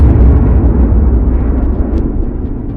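A deep, roaring blast that rumbles loudly and slowly fades, like a huge explosion heard close by; a vast cosmic explosion in space.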